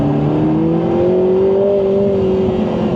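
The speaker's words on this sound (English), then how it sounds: "For a 2-litre engine, this has got so much character." A 2025 Lotus Emira Turbo SE's 2-litre turbo engine revs steadily, holding a loud whirring tone that rises slightly and settles, close and continuous with no voices.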